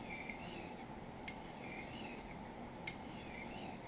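Scraping the burr from a sharpened knife edge makes a steady, close rasping rub, broken by two sharp ticks about a second and a half apart.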